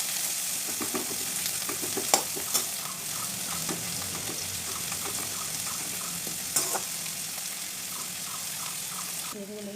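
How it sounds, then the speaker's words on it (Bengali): Sliced onions deep-frying in mustard oil to make crisp beresta, a steady loud sizzle with occasional sharp spatula scrapes and clinks, a low hum underneath. "এবার পরিমাণ মতো সরষের তেল দিয়ে আমি এখানে 3খানা মিডিয়াম সাইজের পেঁয়াজকে বেরেস্তা ভেজে নেব"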